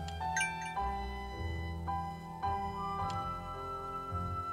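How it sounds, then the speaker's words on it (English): A bell chiming in the Lost Sphear video game, several ringing tones struck in sequence with sustained harmonic decay over a game music bed, no talk. "Alright, we'll go ring the alarm bell and look for the monsters now."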